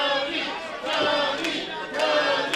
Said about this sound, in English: Everyone cheer Tony's name!